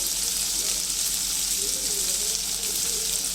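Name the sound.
chicken frying in a pan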